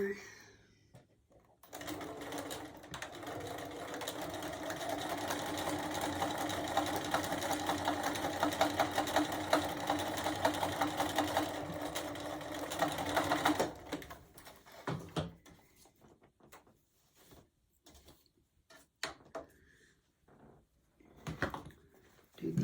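A sewing machine stitches fabric for a quilted gift basket, running as a steady close rapid whir for about twelve seconds, then stopping, followed by faint handling clicks.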